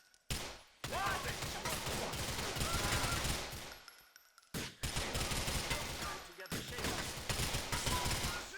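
Gunfire rattles in the video game GTA IV: dense, sustained bursts of automatic fire, broken by a few short pauses.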